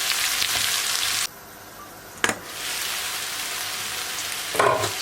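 Food frying in a pan gets stirred, with a loud steady sizzle that drops off briefly, then returns along with a couple of sharp utensil scrapes and clacks against the pan, close and without speech.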